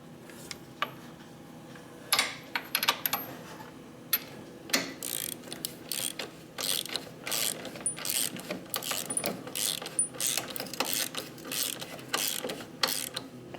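A wrench ratchets on a bolt of a 2004 Harley FLHT twin cam touring motorcycle's suspension during a fork and shock rebuild, giving close, irregular clicking bursts that quicken toward the end.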